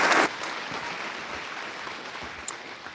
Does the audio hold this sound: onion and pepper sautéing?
no